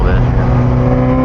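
Ferrari 348 with a modified exhaust revs at about 4,500 RPM while driving, a loud, steady, close engine roar with rich low harmonics sustained through the moment.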